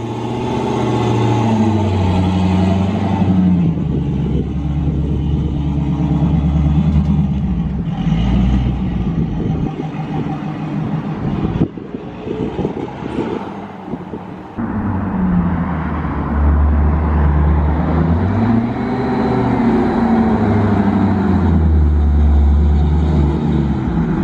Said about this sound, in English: we're working on the exhaust of the truck right there